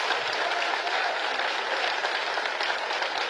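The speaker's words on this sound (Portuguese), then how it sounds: "Essa aí vale umas palmas, né?" Congregation applauding at a church sermon, a steady wash of many hands clapping at once, dense and even from start to finish with no pauses.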